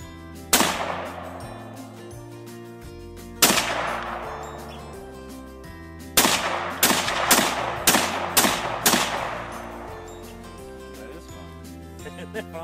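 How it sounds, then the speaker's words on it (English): Kalashnikov rifle fired semi-automatically outdoors, several loud sharp single shots spaced out, then a quicker cluster of five or six, each with a ringing echo over a steady low hum. "Kalashnikov."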